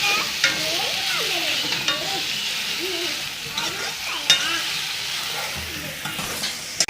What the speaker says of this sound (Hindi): इसको अच्छा से भूनना है, अच्छा से पकाना है।